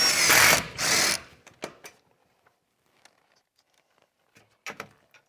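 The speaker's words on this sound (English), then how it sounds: "I use screws to mount things in case something has to be moved." A power drill drives screws to mount J-channel trim on log siding: two short loud whirring bursts, then sparse clicks and taps, and a brief burst of handling noise near the end.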